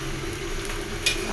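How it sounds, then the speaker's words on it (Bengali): Hilsa fish pieces sizzle steadily in hot oil in a pan while being cooked down into bhuna, a continuous close frying hiss with one brief louder crackle and no voices. "তো এটা ভুনা হবে। কাঁটাযুক্ত ইলিশ"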